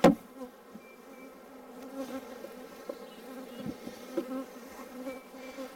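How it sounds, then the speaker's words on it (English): Honey bees buzzing steadily during an inspection of a backyard hive. A dense, close drone continues throughout, with a few knocks and bumps of hive equipment and no talking. "Let me knock the rest of these bees in here."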